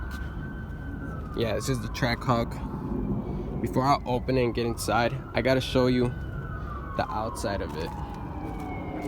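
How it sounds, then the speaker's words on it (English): A police siren wails in the distance, sweeping slowly up and down, while someone talks close by over it beside a 2018 Jeep Trackhawk. "Sorry for the sirens"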